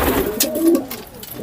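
Pigeons cooing in a village, a close, soft repeated coo with a low throaty pulse, heard alone without talk.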